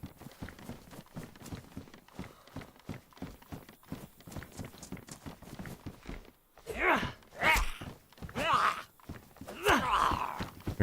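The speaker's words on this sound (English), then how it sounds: "Hear footsteps?" Footsteps in the video game DayZ on the Chernarus map, a steady stream of quick, close steps that grows into louder, heavier thuds toward the end.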